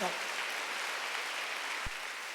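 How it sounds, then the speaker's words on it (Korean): A church congregation applauding together during a Sunday worship service, a dense, steady patter of clapping filling the room at moderate level throughout, with a brief low thump near the end. "박수로 하나님께 나온다"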